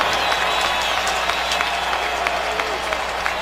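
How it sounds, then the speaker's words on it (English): Stadium crowd at a Houston Texans at Baltimore Ravens NFL football game roars and cheers in a broad, continuous wash of noise, with scattered claps and whistles rising out of it. "That's the cheering you hear."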